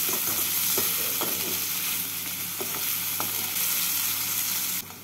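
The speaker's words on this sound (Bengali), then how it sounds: "পেঁয়াজগুলোকে হালকা লাল করে ভেজে নিলাম।" Chopped onions frying in oil until lightly browned, a loud steady sizzle close by with a few soft stirring scrapes, no voices.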